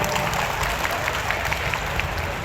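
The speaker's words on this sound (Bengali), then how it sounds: "তালি দিই আমরা সবাই" Audience applause at a school prize-giving ceremony after a student's poetry recitation, a steady dense wash of clapping from a crowd.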